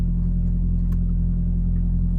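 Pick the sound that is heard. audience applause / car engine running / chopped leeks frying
car engine running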